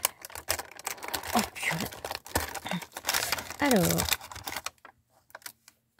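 Cardboard advent calendar doors are torn and ripped open in a rapid series of crackling, crinkling tears, close up, with someone talking briefly over the paper noise before it stops.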